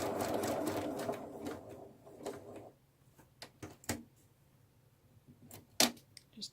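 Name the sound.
sewing machine top stitching bunny gift bag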